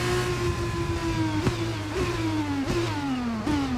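A racing car engine screams at full throttle during a Bahrain Grand Prix race, its steady high whine punctuated by sharp gear shifts every second or so, each followed by a rising pitch, loud and close.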